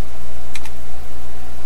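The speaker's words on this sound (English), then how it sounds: "So we're going to start by typing in 0, 0 for the first coordinate of the first corner." A few quick key presses on a computer keyboard while entering drawing coordinates, a brief close clatter of two or three taps over a steady low hum.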